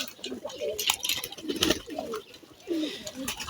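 Pet pigeons coo in repeated short rolling phrases while splashing in bathing water, close and clear, with wet flutters and splashes between the calls.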